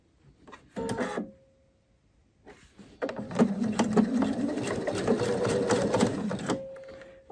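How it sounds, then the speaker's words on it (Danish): A sewing machine stitches across three layers of shirt fabric at a double yoke, a short burst of needle clatter, a pause, then a longer steady run of stitching, close and fairly quiet. "så syr jeg tværs over her igennem alle tre lag"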